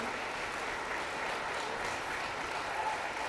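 Steady, dense applause from an audience at a nursing pinning ceremony fills the room continuously, loud and even throughout with no pauses.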